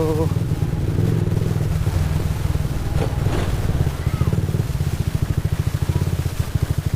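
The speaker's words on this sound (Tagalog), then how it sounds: "Nagkaroon na akong sound sa motor ko." A motorcycle engine runs steadily up close, its low rhythmic putter continuing throughout, with a voice occasionally talking over it.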